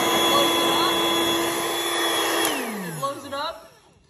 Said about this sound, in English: So if you click it one way this way, it lets the air out.